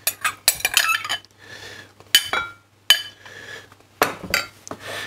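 Vegetables go into a ceramic dish for a buckwheat Buddha bowl, with sharp close clinks and taps of cutlery against ceramic in several separate bursts and softer rustling in between.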